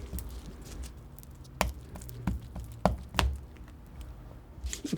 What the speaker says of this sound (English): the sound of the roller is something you get used to